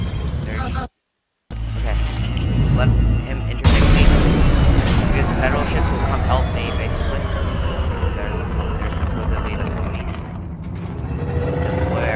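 Ship weapons firing in Elite Dangerous in the Sol system near Federation ships, a dense continuous barrage of booming blasts and bursts that fills the scene after a brief dropout, with talk over it.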